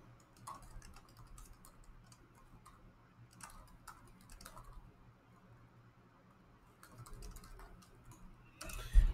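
Quiet keystrokes on a computer keyboard tap in short irregular bursts, close and soft, with brief pauses between runs and a louder clack near the end.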